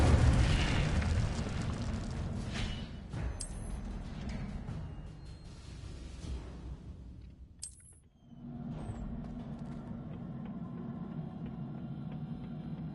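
Incendio fire spell cast in the Hogwarts Legacy video game, a loud fiery burst and roar that fades over several seconds, with bright magical pops, a dip to near silence, then renewed game ambience.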